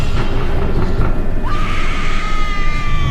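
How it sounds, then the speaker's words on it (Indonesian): A woman screams hysterically in a horror-story sound effect. The shrill cry is loud and close, rising into a long sustained wail over a rumbling background, with no talk. "juga diiringi suara teriakan perempuan yang histeris, ketakutan, kesakitan"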